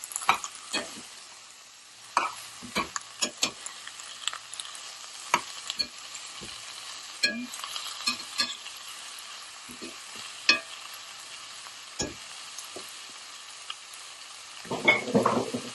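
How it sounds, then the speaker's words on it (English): Vegetable rice frying in a pan, with a steady sizzle broken by repeated clanks and scrapes of stirring, and a louder burst of sizzling near the end; close and moderately loud, no talk. "Okay, I'm gonna make it fry."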